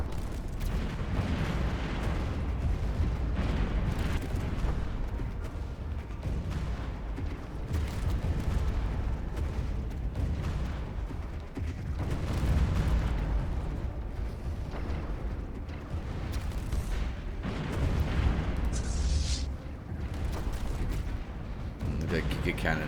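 Space fleet battle in Stellaris with kicker cannon fire, torpedoes and frigates: a dense, continuous roar of cannon blasts and booming explosions, loud throughout, with a voice talking over it.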